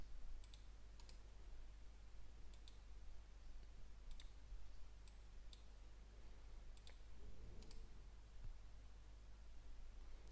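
Computer mouse clicks while working in Canva: sharp, faint clicks scattered at irregular intervals, alone over a quiet background hum.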